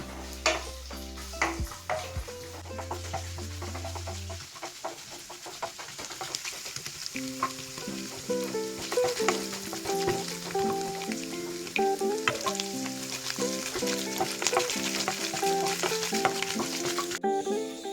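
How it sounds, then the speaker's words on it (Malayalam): Coconut pieces fry in hot oil for a jackfruit-seed curry, a soft, steady sizzle with crackling pops and occasional stirring, heard beneath music. "നമുക്ക് തേങ്ങാക്കൊത്ത് അങ്ങോട്ടിട്ട് ഒന്ന് വറുത്ത് മൂപ്പിച്ചെടുക്കാം."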